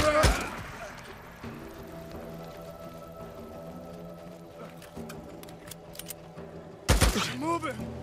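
Gunfire in the Days Gone video game, sharp broadband bursts at the start and again near the end, with a steady tonal hum of game sound in between.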